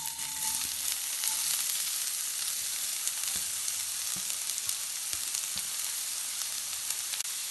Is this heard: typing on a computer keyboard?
no